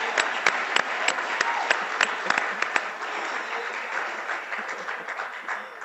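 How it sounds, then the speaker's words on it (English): Applause from a business school event audience after student poster presentations, a dense wash of many hands clapping with a few sharp, louder claps standing out early, steady and sustained throughout. "how about a huge round of applause for the fantastic work that all of you have"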